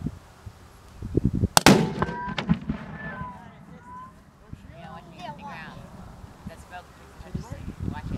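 A reenactment mortar crew firing, with one sharp loud boom near the start that rings out, then faint voices and outdoor background for the rest.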